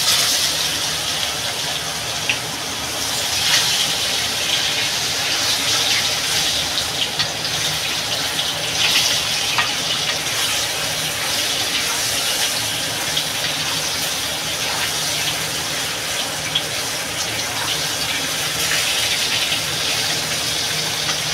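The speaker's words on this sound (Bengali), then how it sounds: "এবার আমি তরকারিটা ঢেলে দেবো।" Vegetables for a potato and eggplant curry with dried hilsa poured into hot oil tempered with black cumin seeds, giving a loud, steady hissing sizzle that runs unbroken throughout with no talk.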